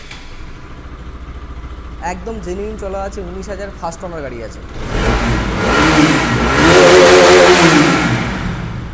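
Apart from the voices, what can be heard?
BS4 RS motorcycle engine starting and revving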